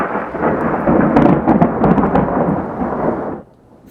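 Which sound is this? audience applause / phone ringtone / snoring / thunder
thunder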